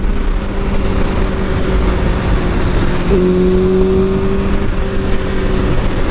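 Motorcycle being ridden, a loud steady engine drone with rushing wind noise, and a brief rise in engine pitch about halfway through.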